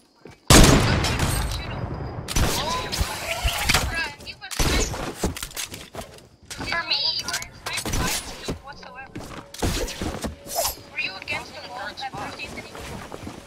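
Gunfire in a Fortnite sniper hide-and-seek match, with repeated loud, sharp shots and bursts scattered across the clip under frequent talking.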